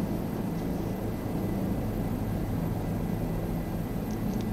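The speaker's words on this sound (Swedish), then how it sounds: "Det är rätt kul att flyga lågt med en helikopter också" A helicopter flying low in Microsoft Flight Simulator 2020 gives a steady, muffled engine and rotor drone, constant in level throughout with nothing else over it.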